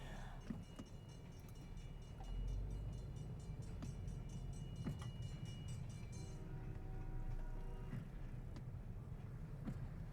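A train rumbles past with a low steady roar and rhythmic clacks, and a crossing bell or horn tone rings faintly in the background.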